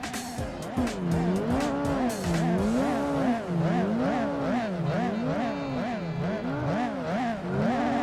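Rally car engine racing in Gran Turismo 4 on a Yosemite rally course, a loud continuous engine note rising and falling in repeated swoops through gear changes, with tire squeal, steady and close throughout with no talk.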